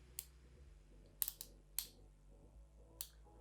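A twist-up brow pencil gives faint, sharp little clicks as it is turned, several separate ticks spaced irregularly over a quiet background.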